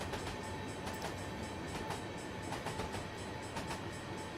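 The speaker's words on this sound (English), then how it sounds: "It's a long train, isn't it?" A long train climbing a steep gradient on the Mt Shasta line in Train Sim World 2022 gives a steady, continuous rumble of rolling cars with faint repeated rail clicks throughout, no voices.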